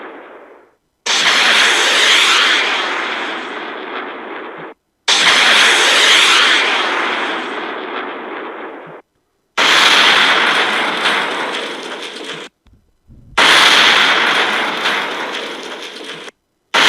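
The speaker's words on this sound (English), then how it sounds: "an Apache attack helicopter comes flying in and starts shooting all those trucks and vans with missiles" Four loud, roaring blasts from an Apache attack helicopter's missiles hitting vehicles, each bursting in suddenly then fading over a few seconds, separated by short silences.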